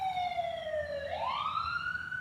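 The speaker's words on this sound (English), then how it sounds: "We have a siren" An emergency siren wails outside, a single rising-and-falling tone sweeping down and then climbing again, fairly faint and distant over a low background hum, with no talking.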